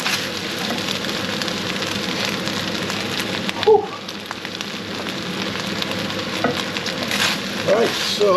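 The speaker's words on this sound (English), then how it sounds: "this is the pork and kimchi fried rice almost done" Pork and kimchi fried rice sizzling steadily in a hot pan, a continuous close crackle with occasional stirring scrapes and a brief clatter partway through.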